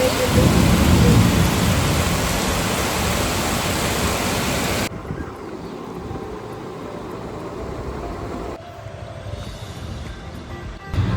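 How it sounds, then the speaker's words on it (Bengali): Heavy monsoon-style downpour pours in a dense, loud roar, then drops to a softer steady patter heard from behind closed glass windows. "দেখো বাইরে হচ্ছে মুষলধারে বৃষ্টি, কাঁচগুলো বন্ধ করে দিয়েছি।"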